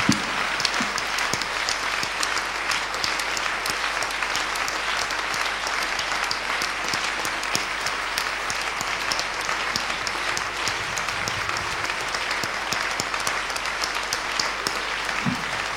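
A church congregation breaks into sustained, loud applause in praise of Jesus Christ, dense clapping that continues evenly throughout without pause.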